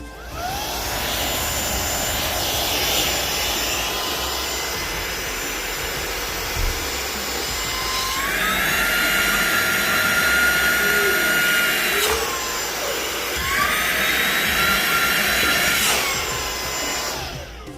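An OYLIK 2-in-1 wireless air duster vacuum, a 90,000 RPM motor set to level 3, sucks up a candle with a loud, steady high-pitched whine that surges and shifts in pitch twice as the load changes.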